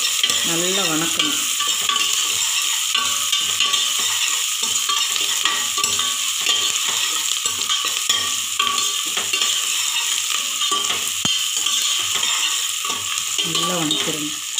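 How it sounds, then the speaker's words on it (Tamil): Onions with salt sautéing in a pan until golden, made for a cowpea meal, give a loud, continuous sizzle with steady stirring scrapes close by throughout, and no voices. "வெங்காயம் நல்ல பொன்னிறமாக வர வர நல்லா வணக்கணும்."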